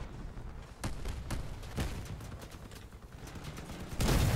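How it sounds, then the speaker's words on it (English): Rapid weapon fire in the vehicle combat game Crossout: a string of sharp, booming shots at an uneven quick rhythm, ending in a louder, heavier blast, with no talk over it. "What does he have that he's firing so fast?"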